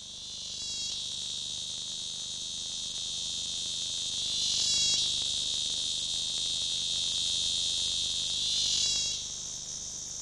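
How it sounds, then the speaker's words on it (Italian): A strange cicada in hot, arid Madagascar scrubland gives a loud, continuous high buzz that swells in three rhythmic pulses, heard alone and close. "il tipico luogo dove si penserebbe di incontrare solo rettili e insetti, come questa strana cicala"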